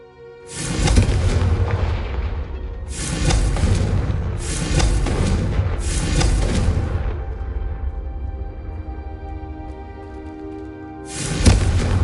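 Confringo fire spell blasts in the Hogwarts Legacy video game, four heavy booming explosions with long rumbling tails, loud and close, the last one arriving after a quieter stretch.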